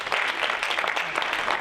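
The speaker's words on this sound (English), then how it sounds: "Let's give her applause" Brief applause from a small audience at a talk, a short burst of scattered clapping heard up close.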